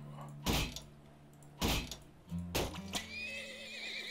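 Horses in the video game Turmoil give three loud neighs spaced about a second apart, followed by a faint high whistling tone, over a low background hum.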